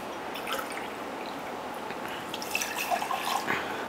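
A measured amount of water is poured into ground idli rice in a home kitchen, a soft trickle with light splashes and drips, fairly close and on its own.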